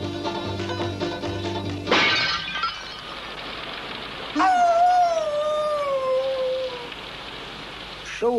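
Old hound dog howling in a long, wavering rising-then-falling wail after a crash and clatter, against steady rain noise, a second cry starting at the end.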